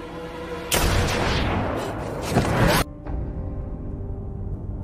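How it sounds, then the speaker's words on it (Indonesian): A single sniper rifle shot in an action film booms out loud and close, with a long rolling tail lasting about two seconds before cutting off, followed by a quieter lingering rumble. "Brandon pun langsung menembak Diablo"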